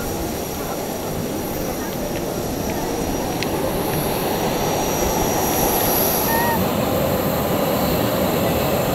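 A steady airplane engine drone fills the space, loud and constant throughout, with faint voices in the background.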